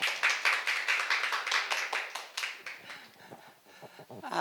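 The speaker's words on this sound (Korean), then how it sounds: "박수로 환영해 주세요." An audience at a church gospel-training lecture claps in welcome, with brisk, close applause that thins out into a few scattered claps after a couple of seconds.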